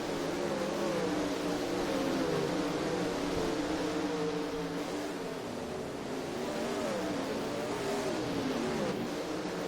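Late model race cars run at Batesville Motor Speedway during a west coast late model series night, with a continuous droning engine roar that swells and eases slightly for about ten seconds, heard from a distance with no voices.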